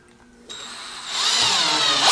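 A Teccpo 12-volt cordless drill with a 4-pole brushed motor drives a screw into wood: a quiet start, then a sudden motor whine that rises in pitch and loudness over about two seconds, close and alone.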